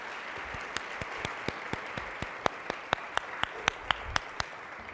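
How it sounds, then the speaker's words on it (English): An audience applauds a women's health panel and host, with scattered distinct claps over a soft, steady wash of clapping at moderate distance and no voices. "Let's give them all a huge round of applause."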